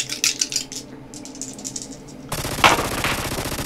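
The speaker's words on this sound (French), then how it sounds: "essayer de tirer avec mon pistolet mitrailleur" Rapid bursts of submachine gun fire from a video game, a fast rattling volley that stops briefly and then resumes louder and denser, heard close with no talk over it.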